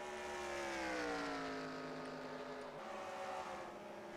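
Race car engines in a sim racing stock car cup series event at the Hillside track drone together as a blended, whining harmonic roar that slowly falls in pitch as the pack draws near, with no talking.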